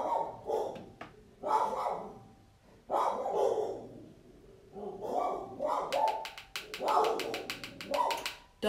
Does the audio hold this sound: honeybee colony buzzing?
no